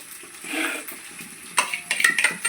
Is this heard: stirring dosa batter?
yes